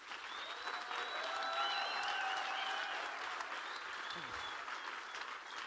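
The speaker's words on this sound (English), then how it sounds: "So won't you give a big round of applause, please, to Joshua de Miranda." A crowd gives a big, sustained round of applause as a speaker is welcomed on stage, steady and even throughout, with whistles and scattered cheering voices riding over the clapping.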